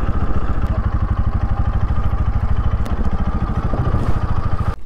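A motorcycle engine idles close by at a riverside ferry landing, a steady rapid low-pitched putter with light mechanical clatter and occasional faint knocks, no talking.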